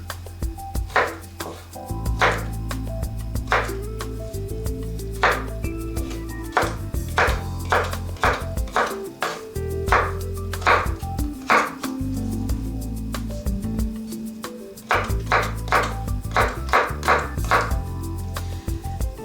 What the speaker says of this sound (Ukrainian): І ще одна форма нарізання із таких же, із таких же слайсів дрібний кубик.